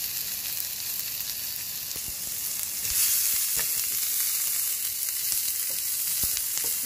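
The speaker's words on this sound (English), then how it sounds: "Okay, now I'm going to saute my onion." Onion sautéing in a hot pan gives a steady, close sizzle that swells slightly partway through, with faint stirring ticks and a brief word spoken.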